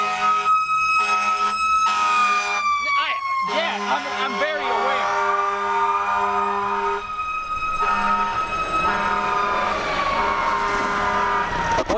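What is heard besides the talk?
fire truck siren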